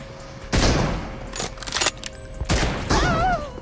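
Two heavy M24 sniper rifle shots in BGMI ring out about two seconds apart, loud and close, with reverberant tails and smaller mechanical clatter between them.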